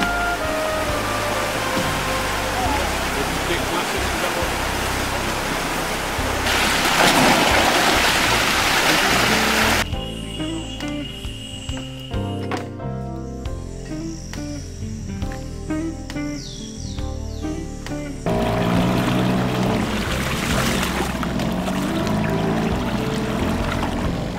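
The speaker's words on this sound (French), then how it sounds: "Nous voici à Soiguane, un des derniers rapides de la rivière Limonade." Continuous rushing water of the Soiguane rapids on the Limonade River roars loudly and steadily throughout, with a boat motor droning beneath and occasional shifts in the churning sound.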